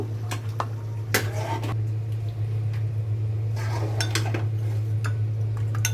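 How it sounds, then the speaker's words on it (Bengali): A spoon stirs cornflour into water in a bowl, making soft scraping clinks against the sides and wet swishing in irregular strokes, close by, over a steady low hum. "কর্নফ্লাওয়ার গুলিয়ে নেব"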